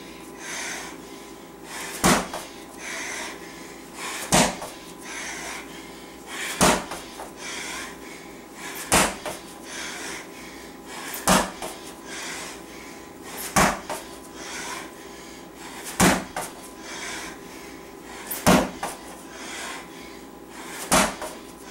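Ball slams during a HIIT workout: sharp, heavy thuds hit the floor at a steady pace about every two seconds, roughly ten impacts over a constant background hum.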